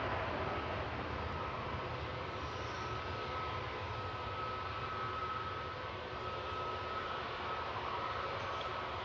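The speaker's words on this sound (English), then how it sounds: "737 coming in from Girona." A ten-year-old Boeing 737 arriving at Manchester Airport from Girona: a steady, distant jet engine roar and whine holding at a constant level for several seconds, with no talk.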